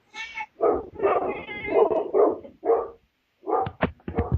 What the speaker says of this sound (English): there is a dog being murdered in the background